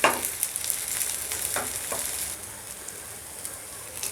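Veg frankie wraps fry in a pan until golden brown on both sides, giving a steady close hiss of sizzling oil that is busier at the start and settles lower toward the end, with no voices.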